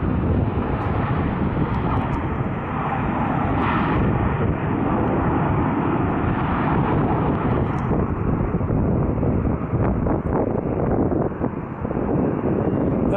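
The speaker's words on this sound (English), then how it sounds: "Yeah, I think that might be an A320." A steady, loud roar comes from an Airbus A320 airliner flying at Salt Lake City airport. The engine rumble sounds close and continuous, with wind buffeting the microphone throughout.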